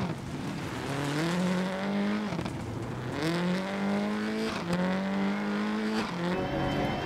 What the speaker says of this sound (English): this is the Subaru Impreza S4